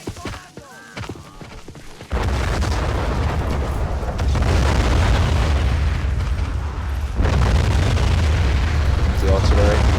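Artillery explosions in the war video game Army Men of War, a loud sustained rumbling barrage that kicks in abruptly after a quieter start and keeps booming continuously.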